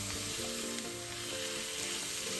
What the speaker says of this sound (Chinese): 這時候再加入切碎的雞肉丁300克